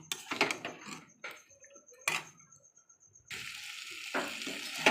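Green chicken with garam masala being stirred in a pan, close scraping strokes broken by pauses, then a steady loud sizzle of frying takes over near the end.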